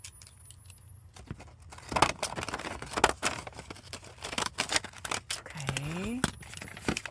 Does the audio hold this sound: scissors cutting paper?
yes